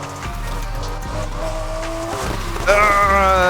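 A Porsche RSR drifts in Need For Speed Heat, its engine droning, then rising into a loud, sustained tire squeal near the end, with no talk over it.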